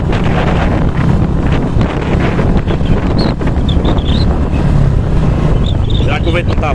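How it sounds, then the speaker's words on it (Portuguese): Strong wind buffets the microphone on an empty street in a small town, a loud, constant roaring rumble with faint bird chirps and rustling leaves behind it. "Será que o vento não tá forte?"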